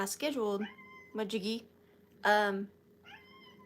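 A stray cat meows indoors, several separate cries heard close by during a live antique and vintage sale stream, with a person talking between and over the meows.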